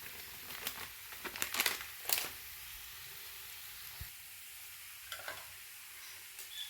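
Beef fry with meat masala is stirred in a pan, a close steady sizzle under a burst of scraping, crinkling spoon strokes early on, then softer occasional stirs, with no talking.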